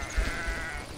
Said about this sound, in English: It's a sheep in there.